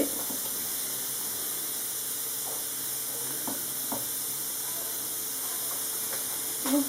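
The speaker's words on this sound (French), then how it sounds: "Là, je vais bien rajouter l'eau." A steady, hissing stream of about half a litre of water poured into a couscous pot, continuous and fairly loud throughout with faint knocks underneath.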